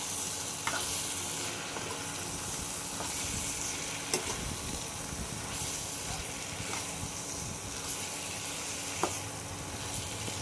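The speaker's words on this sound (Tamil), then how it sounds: "இது எல்லாத்தையும் நல்லா மிக்ஸ் பண்ணி" Chicken curry with carrot and potato being stirred in a pan, giving a steady close sizzle and hiss with scraping strokes and a few sharp clinks of the utensil against the pan, no voices.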